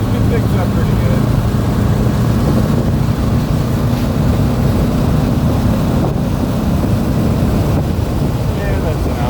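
A 1969 Porsche 912 engine pulls steadily at about 3,000 RPM in fifth gear, a continuous low drone heard from inside the car with heavy wind rush over it.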